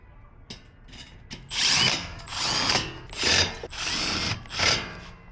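A power drill drives screws while assembling a Husky adjustable worktable, giving several close, loud whirring bursts with brief ratcheting pauses between them, and no one speaking.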